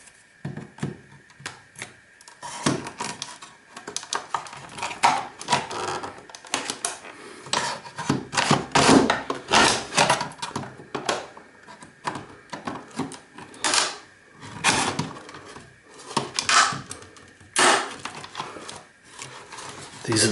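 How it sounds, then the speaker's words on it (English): Steel chisel prying and cracking open the plastic casing of an office desk phone, a string of sharp knocks, snaps and scraping clicks up close, irregular and busy throughout with brief pauses between bursts. "So we might just have to break this open. So we'll get a chisel."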